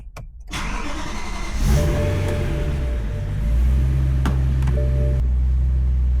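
A BMW M3 E92 with an aftermarket exhaust starts and settles into a steady, deep exhaust rumble at idle, loud and close, with a slight rise in level midway.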